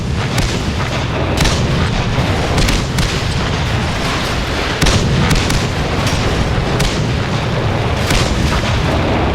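Chaffee light tank in a video game firing its cannon while jumping, a run of booming gunshots and explosions over continuous battle noise, loud and close.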